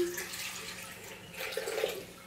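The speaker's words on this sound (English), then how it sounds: "But first, you're gonna pour your milk." Milk poured from a container into a bowl for crepe batter, a steady soft liquid splash and trickle at close range, fairly quiet and continuous, with no voices.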